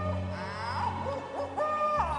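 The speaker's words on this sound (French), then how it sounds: "Je peux même entendre un hibou qui hurle dans les arbres." An owl hoots a few times at moderate distance amid a steady background hum, the calls wavering and overlapping.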